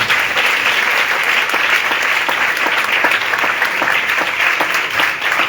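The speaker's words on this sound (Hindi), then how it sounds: "आपकी तालियां तस्दीक करें।" A worship congregation claps loudly and continuously in a big, dense burst of applause, individual hand strikes popping out from the steady roar throughout.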